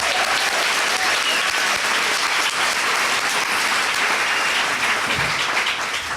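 Loud, sustained applause from a large crowd, a dense steady wash of clapping that continues without a break.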